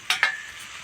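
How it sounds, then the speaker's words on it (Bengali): Fish curry gravy bubbling in a pan while Rupchanda pomfret is cooked, with two quick close stirring or sizzling bursts followed by a soft fading hiss. "এখন ঝোলটা খুব সুন্দরভাবে ফুটে গেছে।"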